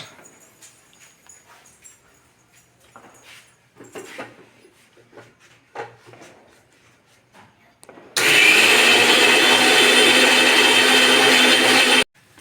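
Fried tomato and onion for egg gravy are blended in a mixer grinder. After about eight seconds of quiet kitchen clatter and handling, the motor roars loud and steady for roughly four seconds, then cuts off abruptly.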